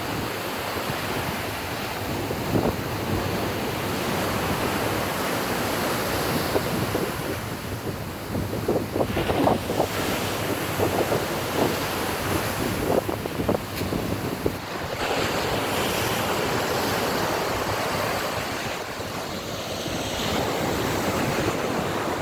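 Sea waves roll in quickly and break repeatedly, a continuous loud wash of surf mixed with strong wind buffeting the microphone, with no talking.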